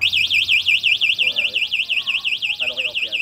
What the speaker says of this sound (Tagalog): meron po siyang anti-theft alarm. Pag ginalaw sir, first alarm.